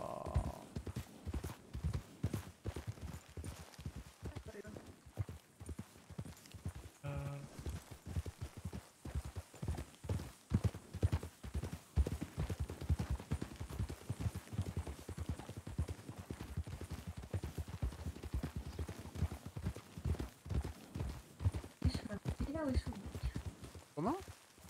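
Rhythmic clip-clop of a horse's hooves while riding through a video game world, a steady trotting beat running under near-constant conversation between players, with a brief whinny-like sound partway through.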